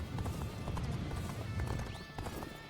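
Horse hooves galloping in the game Dynasty Warriors Origins, a fast, dense clip-clop rhythm under battle noise, with a short whinny near the end.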